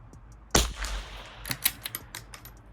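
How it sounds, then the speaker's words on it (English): A single sharp rifle shot at a paper target range, followed by a scatter of fainter clicks and cracks that fade within about two seconds. "So not shooting for group per se, shooting for score on these targets."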